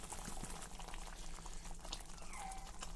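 Fish egg curry gravy bubbles steadily in a pan, a close, continuous simmering boil with no voices over it.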